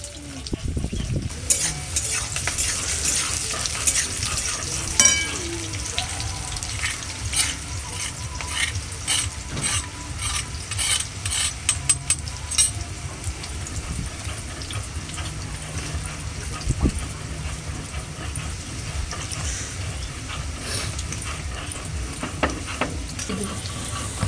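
Capsicum frying in a pan crackles with a continuous sizzle, while a spatula repeatedly scrapes and clatters against the metal in irregular bursts of stirring; no one speaks.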